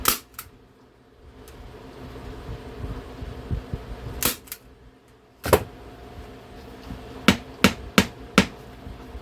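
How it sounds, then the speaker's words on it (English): Sharp staple gun snaps drive staples through boat seat upholstery, a handful of loud isolated cracks spaced irregularly, with a quick cluster near the end and soft handling rustle between shots. "It's keeping my staples going all the way in."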